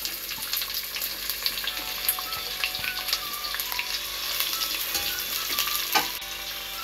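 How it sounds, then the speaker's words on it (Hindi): Onions fry in oil in a cooking pot, a steady crackling sizzle at close range with occasional spoon scrapes and taps, loudest near the end, and no one speaking. "अब प्याज़ों को थोड़ी देर के लिए फ्राई करूँगी।"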